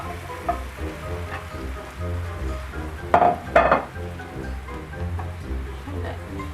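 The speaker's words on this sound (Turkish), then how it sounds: "Kızarmamış yerlerini de iyice çevirip kızartacağım." Zucchini with egg sizzles and crackles steadily in a pan, with a couple of louder scraping stirs partway through and faint talk beneath.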